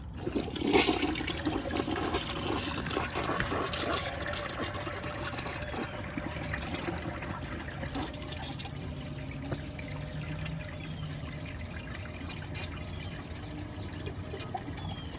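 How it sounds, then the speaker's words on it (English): A Briggs Beautyware toilet flushes a dish towel, a loud rushing surge at the start that settles into a long steady wash of draining and refilling water. "here's a flush with a dish towel"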